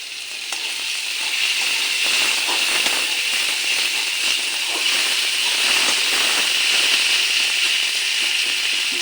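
Continuous crackling sizzle of spring onion, beans, tomato and cauliflower frying in a covered pan, steady and fairly loud with fine popping spatters, no voices.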